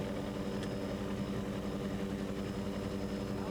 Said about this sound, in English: Ooh La La Sasson is a 30-foot Shadow Cat with 2 500 horsepower Mercury engines